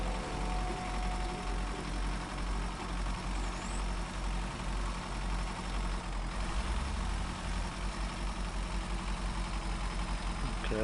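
A truck engine idling in the game Snowrunner, a constant low, heavy rumble with a faint hum over it, steady throughout with no talking.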